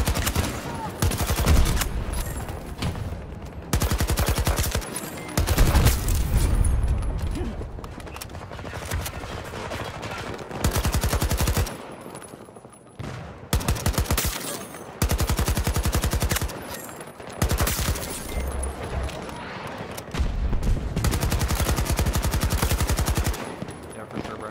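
Rapid automatic AK-24 rifle fire in the shooter game Battlefield 2042, loud and close, arriving in repeated bursts of several seconds with brief pauses between them.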